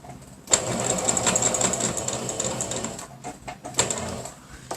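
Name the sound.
sewing machine stitching ecobag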